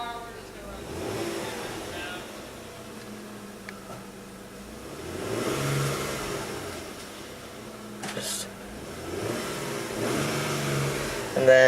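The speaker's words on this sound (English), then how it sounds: "I'm gonna rev the engine a little bit." A 2001 Hyundai Santa Fe engine revs in a few swells, rising and falling under steady idle noise, with a person talking over it.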